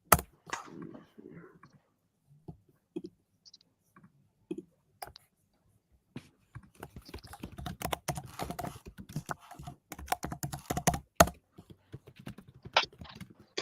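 Computer keyboard typing in bursts of quick clicks, sparse at first and then dense and fast, close and fairly loud, with scattered louder key strikes.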